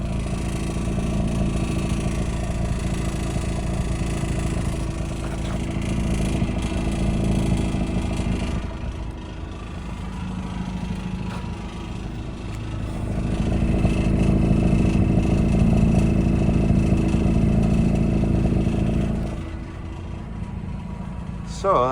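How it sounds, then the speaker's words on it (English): A 2005 Mazda RX-8 with a six-speed manual idles steadily through its dual exhaust, one pipe on each side, heard up close at the rear as a continuous low drone that swells slightly midway. "So that's what the exhaust sounds like."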